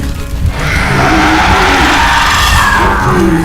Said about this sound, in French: Cornes basses et gueules ouvertes, rugissant, hurlant, dans un vacarme infernal.